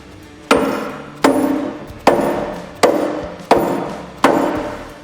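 A rubber-coated dead blow hammer strikes a boat propeller six times at an even pace, driving it onto the outdrive shaft, each blow a sharp, close thud with a short ringing decay and no voices.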